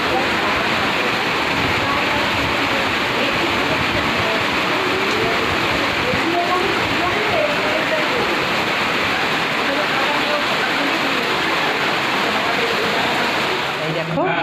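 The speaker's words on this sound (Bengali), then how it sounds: "প্রচণ্ড জোরে বৃষ্টি এলো।" Heavy rain pours down in a steady, dense roar that fills the space without a break, loud and close, heard during a family get-together at a new flat.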